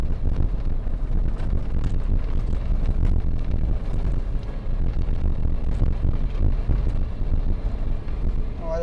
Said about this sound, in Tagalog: Grabe yung sandstorm.